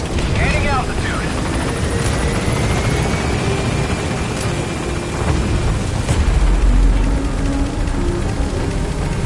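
The Pequod helicopter in Metal Gear Solid V: The Phantom Pain lifts off from a landing zone, with a loud, continuous rotor roar and a rising engine whine that swells near the end.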